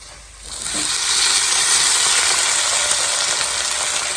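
Beans and tomato dropped into hot tempering oil give a loud, steady sizzle that swells up after about half a second and carries on without any talking.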